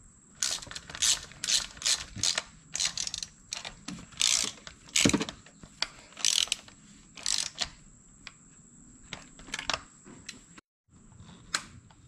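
Ratchet wrench tightening fuel rail bolts on a car engine during a fuel injector service, heard as repeated bursts of quick clicking strokes, close and fairly loud, with short pauses between runs and no talking.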